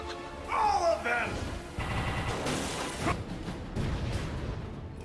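Gunfire in a LEGO Marvel's Avengers video game cutscene, rapid bursts of shots mixed with swooshing effects and a voice speaking amid the action, fairly loud throughout.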